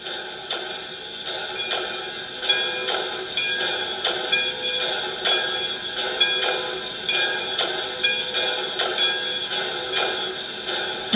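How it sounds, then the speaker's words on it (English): A small model locomotive bell rings in a steady, evenly spaced pattern, each strike bright and metallic with a short ring, repeating over a faint background hiss. "So let's try the bell first."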